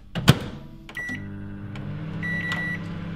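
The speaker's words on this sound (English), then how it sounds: "Let's microwave it." Microwave oven cooking a mug dessert, a door clunk and button beeps, then a steady low electrical hum with the turntable running and another beep partway through.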